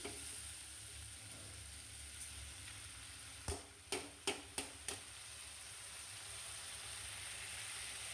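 Potatoes and chickpeas fry in a pan with a steady, fairly quiet sizzle throughout, broken midway by four or five sharp knocks of a spoon or spatula against the pan.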